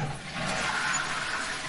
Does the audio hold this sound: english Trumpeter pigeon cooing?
no